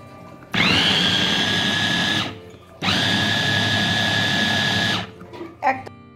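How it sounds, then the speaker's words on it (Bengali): A capsule cutter chopper grinds fish in two loud motor bursts, each roughly two seconds long with a high whine, separated by a brief pause and followed by faint clatter. "আমি এখানে ক্যাপসুল কাটারে করছি।"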